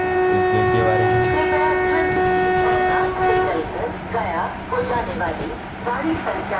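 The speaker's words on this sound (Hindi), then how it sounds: "चलिए दोस्तों चलते हैं, ट्रेन को चलाते हैं" Indian Train Simulator game train running, a steady engine drone with a long sustained horn tone for the first few seconds, then rolling rail noise and a busier mix of game sounds, close and fairly loud.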